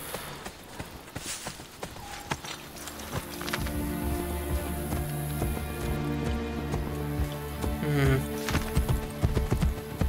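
A horse galloping in the video game Assassin's Creed Brotherhood, with rapid rhythmic hoofbeats that are loud and close, building to a steady run over a game soundscape.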